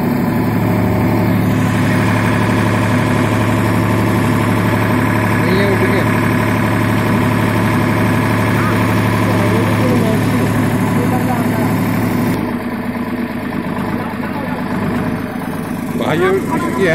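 An Eicher 485 tractor engine idles steadily and loud at close range, a constant low rumbling drone with mechanical vibration throughout, easing slightly in the final seconds while a person talks over it.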